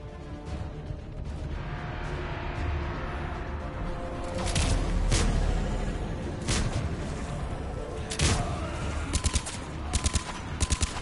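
Video game gunfire aimed at a dead body, scattered loud shots and bursts standing out from a busy rumbling background, ending in a quick run of rapid cracks, with occasional voices.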